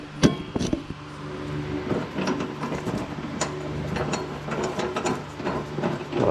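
Ratchet working a nut loose on a Scotts/John Deere S1642 tractor, giving quick clicking bursts and metallic rattles at close range, fairly quiet, with no speech.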